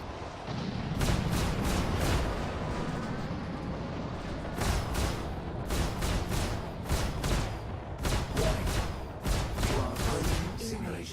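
Rapid bursts of video-game gunfire fill the stretch, firing in quick repeated volleys over a constant rumbling bed, loud and close, with short pauses between clusters of shots.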